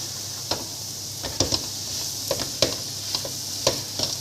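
Onions fry with a spoonful of black pepper in a pan, giving a steady sizzle broken by regular scraping clicks of a spoon as they are stirred close up, with no talking.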